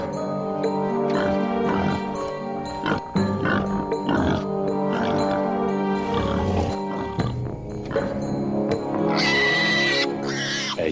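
A dragon imitates a pig's grunting, a series of loud, close snorts and oinks in an irregular rhythm, with a brief higher squeal near the end.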